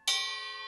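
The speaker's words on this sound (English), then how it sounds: "3 cup chimes ranging from 6," A single cup chime on a drum set is struck once, ringing with a bright, pure metallic tone that sustains and slowly fades, heard alone and fairly soft.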